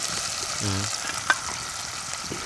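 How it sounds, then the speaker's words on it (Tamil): Chopped onions fry in a pan with a steady, soft sizzle throughout, joined by a brief low scraping stir and one small sharp clink, with no talking. "வெங்காயம் கொஞ்சம் வேகட்டும்"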